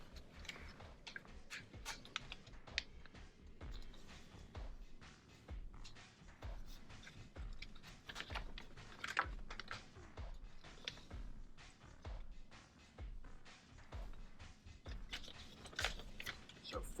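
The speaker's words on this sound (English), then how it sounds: "I'm going to fold it." A sheet of paper is creased and folded into a four-sided support for a paper rollercoaster, giving a run of crisp crinkles and sharp clicks close by, with soft talking underneath.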